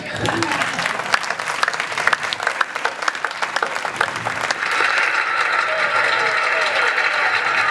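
A street crowd in Aurillac claps steadily and densely throughout, the applause swelling and turning brighter and fuller in the second half, with some crowd noise mixed in.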